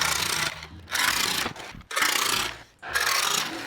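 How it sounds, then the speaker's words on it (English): A saw slowly cutting through a fiberglass car fender, giving repeated rough rasping strokes with brief gaps between them, close up and with no speech. "I have the saw set slow so it doesn't make a bunch of dust. It's just kind of chunking the fiberglass out."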